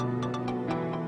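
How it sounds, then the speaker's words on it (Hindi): A mobile phone rings during an indoor drama scene, a steady electronic tone with pulsing bursts repeating for about a second, held at an even level throughout. "मेरा फोन बज रहा है"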